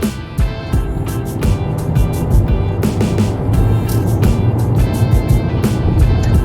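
A car carries a family down the road on a vacation drive, giving a steady, loud road and engine rumble with wind noise that holds throughout with no break.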